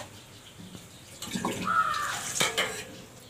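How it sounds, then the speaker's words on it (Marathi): Water pours from a vessel into a cooking pot on a wood-fired stove, a brief splashing gush rising in the middle among light metallic clinks of pots. "त्याच्यात 3 तांबे पाणी टाकणार आहे।"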